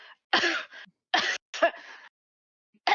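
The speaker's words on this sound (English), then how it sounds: "so you cough" Several short, harsh throat-clearing coughs in quick bursts with brief pauses between them, close and fairly loud against silence.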